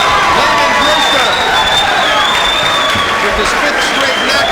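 Hometown boxing crowd in Beverly Hills roaring and cheering, a loud dense wall of voices and whistles held throughout, with a commentator talking over it.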